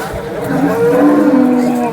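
Cattle low with long, deep moos at the Sangola cow market in Maharashtra, heard loud and close over a steady background hum of the crowded market.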